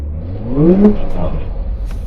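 Porsche engine on the Hockenheimring track accelerating, a mid-pitched rising rev note that swells and fades within about two seconds over steady road and wind rumble.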